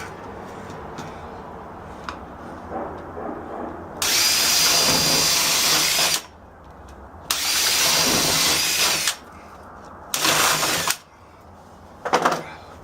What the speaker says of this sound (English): get my drill, make a couple holes in this one corner